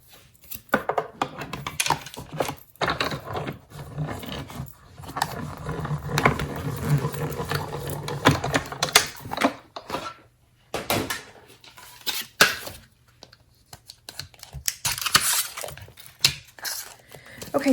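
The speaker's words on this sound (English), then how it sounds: "Here's our Stampin' Cut and Emboss machine." A Stampin' Cut and Emboss machine cutting paper, an irregular run of close rattling, grinding crunches and clicks with brief pauses, fairly loud throughout.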